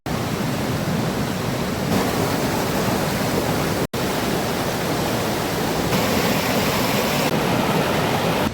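A river rushing at a Himalayan confluence near Sonprayag, a loud steady roar of flowing water heard close by, with no voices.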